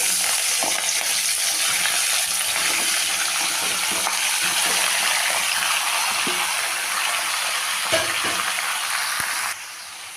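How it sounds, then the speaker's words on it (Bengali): Chopped vegetables tipped into hot oil tempered with fenugreek seeds, giving a loud, close, steady sizzle with occasional clatter that cuts off sharply near the end. "সমস্ত সবজিগুলো আমি ঢেলে দেব।"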